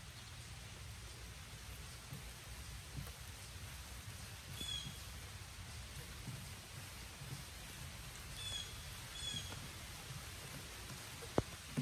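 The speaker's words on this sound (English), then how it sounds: "Here comes the rain." Steady rain patters on surfaces outdoors, a soft continuous hiss with scattered drips and a faint bird chirp now and then.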